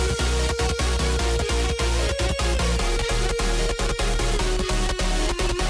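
Electronic dubstep track, the revamped opening melody: a sustained lead line held over steady, punchy drum hits and thick bass, loud and dense, with no voices.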